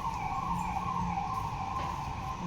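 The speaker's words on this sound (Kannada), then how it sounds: "ಆಂಬುಲೆನ್ಸ್" An ambulance siren wails steadily and loudly throughout, its two-tone pitch sliding slightly as it passes close by, with low traffic rumble underneath.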